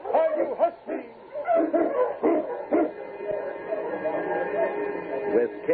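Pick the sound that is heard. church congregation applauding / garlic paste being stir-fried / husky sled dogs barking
husky sled dogs barking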